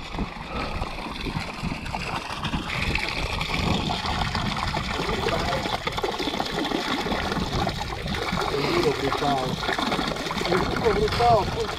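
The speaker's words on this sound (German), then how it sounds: "Wasser." Flowing water rushes and trickles continuously during an enduro ride in Bosnia, a close, busy splashing wash that stays fairly loud throughout the clip.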